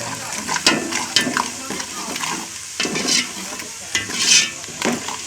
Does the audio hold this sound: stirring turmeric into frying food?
yes